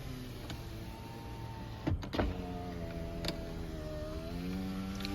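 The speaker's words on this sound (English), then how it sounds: "You have all your power windows." Power windows on a 2006 Lexus GS300 whir in a thin electric hum, briefly interrupted by two soft thumps before the motor tone resumes, faint and close inside the cabin.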